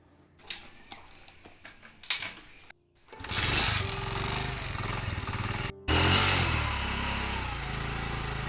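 Motorcycle engine while riding on a village road, starting after a few quiet seconds, then a loud steady drone with a brief cut before continuing.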